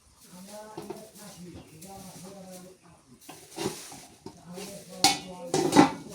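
A pot of carp curry with green banana and potato is lifted off the stove, clattering and clinking near the end, while someone talks throughout.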